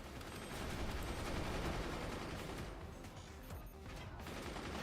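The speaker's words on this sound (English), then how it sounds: "right hand side rearmost base is getting blasted by mortars" Mortars pound the rearmost base in the strategy game Forts, a dense continuous roar of overlapping explosions and gunfire held at steady volume throughout, with no voices.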